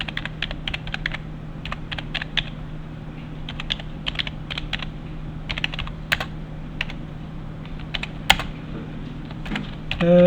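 Someone types on a computer keyboard at a steady pace, and the close, crisp key clicks come in quick bursts with short pauses between them. No one speaks.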